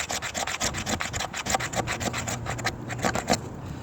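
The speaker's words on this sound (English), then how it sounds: "Just want to get some more shavings off" A knife shaves resinous fatwood pine from a stump outdoors, making a close, steady run of dry scraping strokes that repeat in a quick rhythm with no talking.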